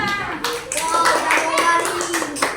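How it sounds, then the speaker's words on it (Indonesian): Children in a classroom clap their hands together in brisk, uneven bursts while young voices chatter and call out over the clapping. "Tepuk tangan untuk kita semua."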